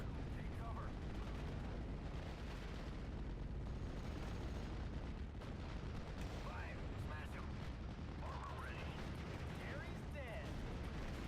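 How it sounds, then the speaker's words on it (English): Artillery fire in the WWII strategy game Steel Division, a dense low rumble of continuous booms and distant detonations with someone talking over it throughout. "Artillery's firing over here, which is good."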